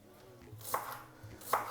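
Knife chopping through spring onion on a board, two crisp close cuts roughly a second apart over quiet kitchen background.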